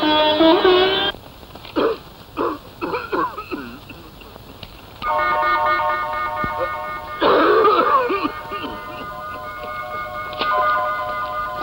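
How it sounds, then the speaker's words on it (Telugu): An old man coughs in repeated bursts in an indoor domestic scene, the harsh throat-clearing coughs coming close and fairly loud between stretches of other sound, with a musical tone running through parts of it. "ఈ ముసలాయన పగలు రాత్రి ఇలా దగ్గుతూ అందరి ప్రాణాలు తీస్తున్నాడేమిటి?"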